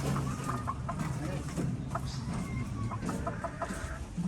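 White Kelso gamefowl roosters at a game farm, soft scattered clucks and short calls at a moderate distance over a constant farmyard background hum.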